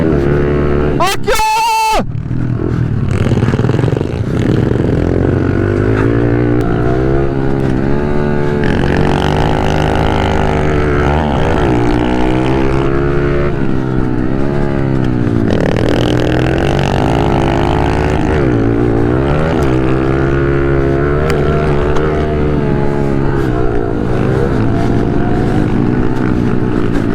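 Pit bike engines race around a track at a round of the Italian pit bike championship at Montecchio Maggiore, a loud close engine revving and shifting through gears continuously, with a brief burst of wind noise near the start.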